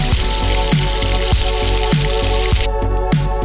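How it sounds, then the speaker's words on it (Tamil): Garlic, dried red chilies, curry leaves and cumin seeds sizzle and crackle steadily in hot oil in a pan, loud and close, with a dense spattering texture throughout. "பூண்டு காஞ்ச மிளகாய் கருவேப்பிலை ஜீரகம் இது எல்லாத்தையும் போட்டு எண்ணெயில் மிக்ஸ் பண்ணி எடுத்துக்கலாம்"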